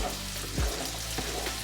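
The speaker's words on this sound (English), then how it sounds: "Using the bacon fat, I'm gonna cook 1 diced yellow onion." Diced yellow onion frying in bacon fat in a skillet makes a steady, close sizzle, with a brief louder hiss and stir near the middle.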